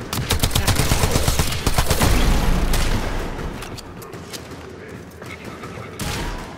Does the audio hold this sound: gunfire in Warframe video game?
yes